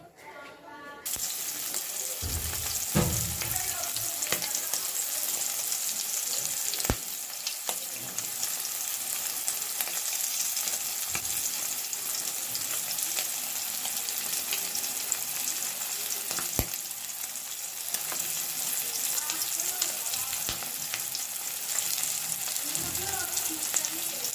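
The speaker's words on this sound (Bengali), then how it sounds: "প্রথমে আমি ডিমটা ভাজি করে নিব তারপর মাছটা তারপর বেগুনটা" Egg, fish and eggplant fry in oil in a pan while khichuri is being cooked. A continuous close sizzle with a few clattering stirs runs through the clip, and a voice comes through faintly at moments.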